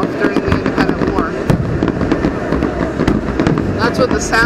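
Fourth of July fireworks at a West Palm Beach street celebration explode in rapid, overlapping bursts and crackles, loud and continuous, with crowd voices mixed underneath.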